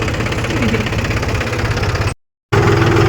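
A tractor engine idles and chugs in a field, a steady, close, knocking rumble that cuts out briefly before resuming just as loud.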